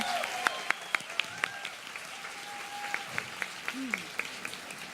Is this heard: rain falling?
no